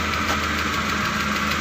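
A ZMZ 406 car engine runs steadily under an open hood, a loud, even idle with a dense mechanical rumble and faint rapid ticking throughout, heard close up with no speech.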